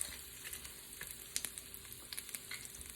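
Food fries in a pan with a soft, steady sizzle and occasional faint pops and crackles, quiet and unbroken by speech.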